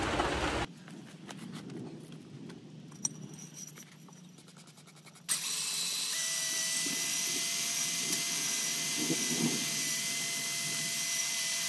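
An engine cylinder bore being deglazed with a hone, first faint scraping and ticking, then a loud steady whirring grind from the drill-driven tool that continues to the end.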